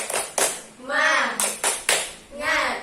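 Grade five children in a classroom do a rhythmic spirit clap, sharp hand claps landing in a quick pattern while their voices chant along between the beats, moderately loud and close.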